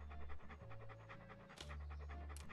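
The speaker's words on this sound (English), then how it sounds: "what a ferocious looking dog." A dog panting in the video game Monkey Island 2: LeChuck's Revenge, rapid rhythmic huffing breaths repeated steadily over a low game background hum, with a couple of brief brighter effects.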